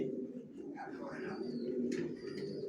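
Young racer pigeons in a loft give soft, low cooing, a quiet continuous murmur of several birds close by.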